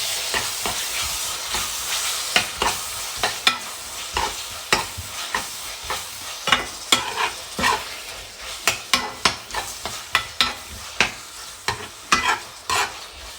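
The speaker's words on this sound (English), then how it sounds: "I'm just going to add fresh tomatoes" Fresh tomatoes frying in sizzling oil for a prawn curry, a steady hiss punctuated by a long run of sharp, irregular stirring scrapes and clacks of a utensil against the pan.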